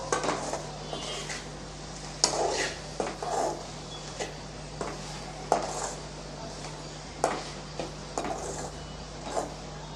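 A ladle stirs egg pepper fry in a metal pan: sharp clanks and scrapes at an uneven, repeating pace over a low steady hum.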